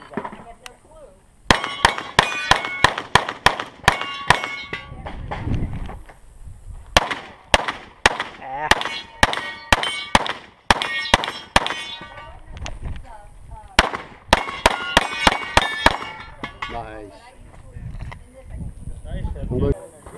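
Rapid strings of sharp, loud gunshots at a USPSA practical shooting range in Frostproof, Florida, fired in quick bursts with metallic target clangs and brief pauses over about twenty seconds.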